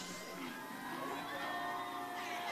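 Crowd on the shore at a collegiate waterski nationals jump event cheering and shouting, a dense, steady roar of many voices with whoops that holds through the whole stretch.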